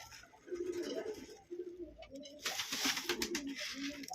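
Pigeons coo in a pigeon loft, making close, repeated low throaty coos in overlapping phrases, with some rustling and hissing noise between the calls and no speech.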